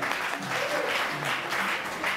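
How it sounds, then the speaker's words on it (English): Audience applause at a Caribbean gospel award show, a steady wash of clapping that carries on without a break for the whole short stretch. "Give her a clap now."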